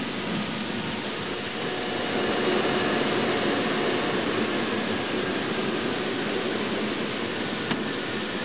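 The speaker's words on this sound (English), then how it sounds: "An airplane tows the glider up into the sky with a tow cable" A towplane's engine drones steadily as it pulls a glider aloft on a tow cable near St. Louis, a continuous broadband roar with no talk over it.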